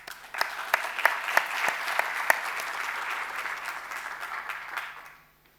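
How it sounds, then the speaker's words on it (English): Audience applause welcomes a speaker at a data science conference: a steady wash of many hands clapping with a few sharper claps standing out, holding evenly before tapering off into quiet at the end. "Please help me welcome her with a round of applause"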